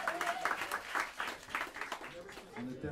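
An audience at a jazz club in New York gives quick, choppy applause for the drummer, heard fairly faint under someone talking over it.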